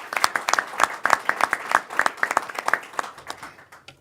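An audience claps for New York State Senator John Brooks, a steady run of distinct, moderately loud claps that tapers off near the end.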